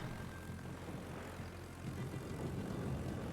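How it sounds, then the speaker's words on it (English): A ship's engine boost in a naval combat video game, heard as a steady, broad engine drone that swells slightly toward the end, fairly quiet and without speech. "Engine boost, he sees us now."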